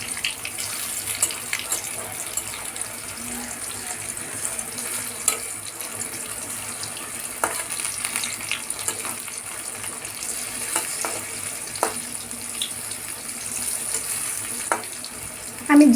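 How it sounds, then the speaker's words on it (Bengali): Pieces of taro (kochu) fry in a pan with a constant soft sizzle and a few sharp pops and utensil taps scattered throughout, with no talk. "আমি যে কচুটা ভাজি করতেছি"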